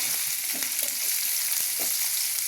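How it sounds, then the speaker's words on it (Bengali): Potatoes frying with cumin in a pan, a continuous moderate sizzle of oil with faint clinks and scrapes of stirring mixed in. "আলুগুলো দিয়ে একটু ভাজা ভাজা করব।"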